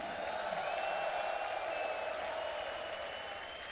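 An arena crowd at a G2 esports match at Royal Arena applauds, a sustained dense clapping with cheering that stays loud and steady before easing slightly, with a voice faintly over it.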